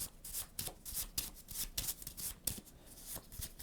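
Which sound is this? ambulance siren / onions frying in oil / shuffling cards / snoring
shuffling cards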